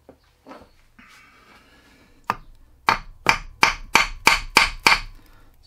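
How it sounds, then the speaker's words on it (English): A hammer pounds a seized, snapped-off stud with a few loose taps and then a steady run of about seven loud, sharp metallic blows, close and with no talk. "So what I'm doing is I'm hitting the stud."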